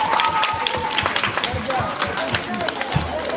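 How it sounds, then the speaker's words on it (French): Audience applause and cheering for mothers at a French-speaking event, dense clapping with crowd voices mixed in, fairly loud and steady throughout, with some speech-like tones over the top. "Et on peut les applaudir."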